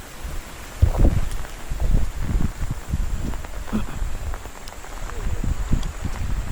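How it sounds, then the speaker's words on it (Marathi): Steady monsoon rain patters outdoors in a village with gusts of wind, continuous and fairly close, with no voices over it. "हे बघा गावी पाऊस केवढा आहे"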